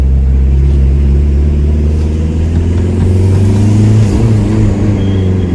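A tuned VW Golf 3 with a 1.9 TD diesel engine accelerates, a loud steady low rumble with rising engine harmonics throughout, heard from inside the car with no talking.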